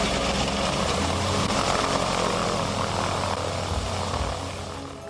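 Breguet 14 biplane with a 350-horsepower Lycoming engine, its propeller engine droning steadily and loud throughout, fading slightly near the end.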